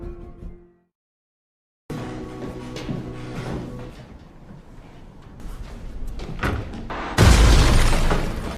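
Gunfire rings out in a film street scene: short sharp cracks and bangs scattered after a moment of silence, ending in a loud, heavy burst.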